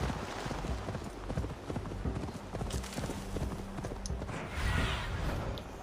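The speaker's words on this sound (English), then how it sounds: "And this horse is slow." Horse hooves clip-clop in a steady trotting rhythm in the video game Assassin's Creed Valhalla, continuous and fairly close over a low rumbling game soundscape.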